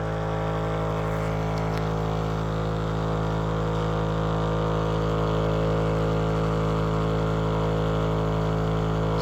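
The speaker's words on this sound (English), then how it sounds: "I bet this is the fastest a KidWind Alternator has ever spun." A KidWind alternator, driven by a motor, spins very fast and gives off a loud, steady, continuous electrical hum with a mechanical whine. It stays even throughout, and no one speaks.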